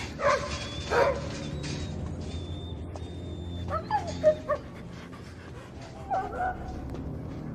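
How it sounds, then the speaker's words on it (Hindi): Fighting dogs bark, yip and whimper in short, scattered bursts at moderate distance, with a continuous low background rumble under them. "ये सभी लड़ाकू कुत्ते हैं।"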